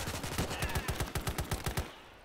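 Rapid bursts of gunfire from the WWII strategy game Call to Arms: Gates of Hell – Ostfront, a steady automatic stream of about fifteen sharp shots that cuts off abruptly near the end.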